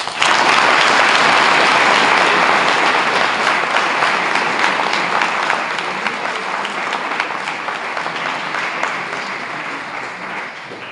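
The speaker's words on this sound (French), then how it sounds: "j'aimerais qu'on les applaudisse" A crowd at a French prep-school sponsorship ceremony claps enthusiastically, dense and sustained, slowly tapering off toward the end.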